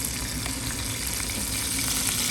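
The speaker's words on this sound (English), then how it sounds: "we're gonna take 2 pieces of anchovies and basically disintegrate the anchovies right into the oil" Anchovies frying and breaking down in olive oil give a steady, even sizzle throughout, close and moderately loud with no voices.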